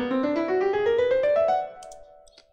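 A rising scale of evenly spaced notes played on a tonal instrument, climbing smoothly over about a second and a half before ringing out and fading.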